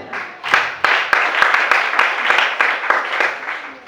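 A church congregation at a worship service in Libreville claps loudly and steadily in rhythmic applause, dense and close, with cheering voices mixed in for a few seconds.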